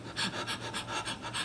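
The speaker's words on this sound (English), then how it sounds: "that's why you should do shallow breathing" A person demonstrates shallow breathing with quick, rapid panting breaths, about seven short bursts in a steady rhythm, close and fairly loud with no talking.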